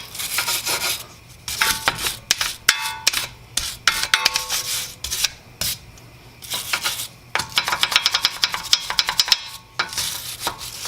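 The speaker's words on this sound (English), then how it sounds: "I'm just going to use a little wire brush to get some of that rust off there." A small wire brush scrubs rust off a front brake rotor on a 2013–2015 Nissan Altima: close, irregular scratchy strokes in quick bursts with brief pauses, no voices.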